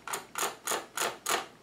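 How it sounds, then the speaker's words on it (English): A cheap gaming mouse is clicked five times in an even rhythm, each dry, sharp tick close and distinct in a quiet room. "it sounds like it's dry clicking,"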